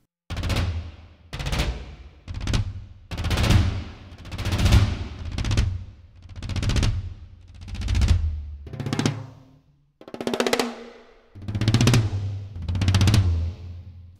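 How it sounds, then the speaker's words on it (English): Tom crescendo rolls: about ten swelling drum rolls, each rising to a loud peak and then cutting off, follow one another in a steady rhythm, with one short gap partway through. "we have some tom crescendo rolls."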